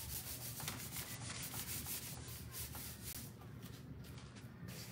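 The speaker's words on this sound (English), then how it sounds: "Give it a nice rub." Chalk paint is rubbed onto a couch with a steady, soft, brushy scrubbing in quick repeated strokes, fairly quiet and close, with no talking.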